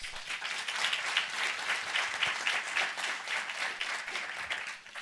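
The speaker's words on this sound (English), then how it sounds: "So give yourself a round of applause." An audience at a talk on Asian Americans in hip hop gives a round of applause, a dense, continuous roar of clapping that holds steady and fades slightly at the end.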